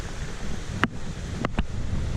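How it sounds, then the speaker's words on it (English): A small river running through the woods beside a short hiking trail to waterfalls makes a steady, even rush of water, moderately quiet and continuous, with a few faint clicks over it. "Nice little river running down through."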